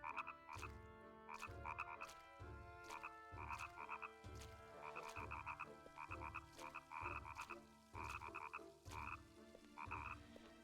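Frogs croak in a swamp area of the video game Nightmare Before Christmas: Oogie's Revenge, a steady rhythmic series of deep, regular croaks repeating about every second over a quiet background, with a faint bell-like musical pattern.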